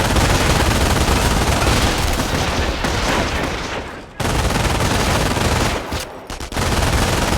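Gunfire in the Company of Heroes video game rattles in a dense, loud, continuous stream of shots, briefly dropping away twice before resuming at full intensity.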